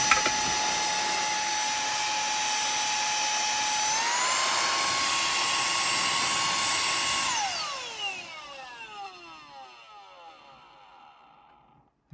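A Koonie cordless air duster rated at 77,000 RPM blows with a loud, piercing high-pitched whine that steps up slightly partway through, then spins down in a falling whir as it shuts off, with no talking.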